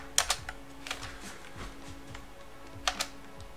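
Password typed on a computer keyboard to log in: a few short bursts of quick, light key clicks with pauses between them, close by and fairly quiet.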